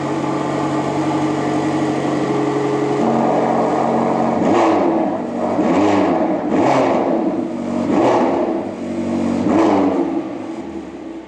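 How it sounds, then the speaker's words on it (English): A McLaren GT with exhaust valves open idles with a deep, steady drone, then four or five quick throttle blips rise and fall in a row, loud and close, with no talk. "this is the best sounding McLaren so far, certainly under idle, and we did have a few exhaust blips"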